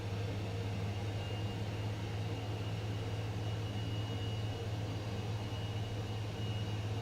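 Aircraft engine in Microsoft Flight Simulator 2024 during a snowy Finland leg from Oulu to Tornio, a steady loud droning hum with a low tonal buzz that holds evenly throughout, no talk.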